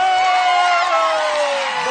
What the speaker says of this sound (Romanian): Aplauze pentru Andrei